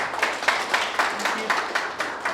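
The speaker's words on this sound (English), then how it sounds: "So a big round of applause for our volunteers." An audience applauds volunteers at a Salesforce Data Cloud talk with a small, rhythmic patter of claps at an even pace, close and moderately loud.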